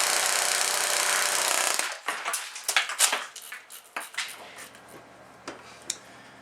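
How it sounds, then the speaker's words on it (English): A high-speed airsoft P90 AEG fires one fast, continuous buzzing burst lasting about two seconds, followed by a few scattered clicks and light rattles of handling. "now you've seen our high-speed P90 in action"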